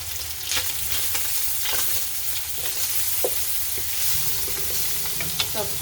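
Cubed Spam frying crispy in a pan, a close, steady sizzle broken by scattered pops and the scrape of stirring, with no talk.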